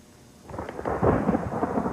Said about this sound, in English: Sounds like a big storm is coming.